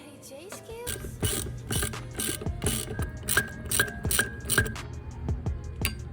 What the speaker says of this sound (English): I'm just going to alternate tightening one at a time